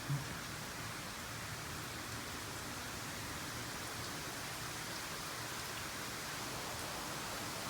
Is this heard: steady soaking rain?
yes